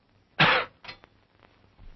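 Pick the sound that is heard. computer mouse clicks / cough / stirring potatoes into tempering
cough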